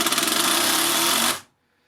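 A Makita 12V impact driver sinks a screw into pine with a loud, rapid hammering rattle for about a second and a half, then cuts off abruptly into silence, close up and with no voices.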